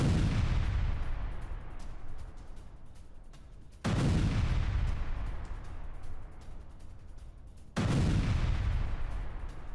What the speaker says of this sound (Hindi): सेंट्रल गाजा में आईडीएफ की जबरदस्त बमबारी।